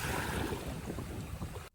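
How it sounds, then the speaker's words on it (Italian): Waves breaking on the shore at Vlora, Albania, a broad washing surf roar mixed with wind buffeting the microphone, steady for a moment before cutting off abruptly. "Ed ecco 3 ore di riprese dell'acqua che si infrange sulla riva"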